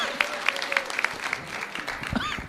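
An audience at a spiritual discussion gathering claps in a brief burst of applause, with voices and some tonal sound mixed in.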